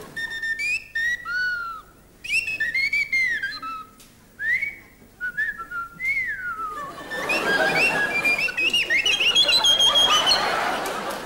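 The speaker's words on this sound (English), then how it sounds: "He says he's the happy whistler." A man whistles a lilting tune on stage at a 1970s BBC seaside variety show, his bright melody rising and swooping for several seconds before a wash of audience noise takes over.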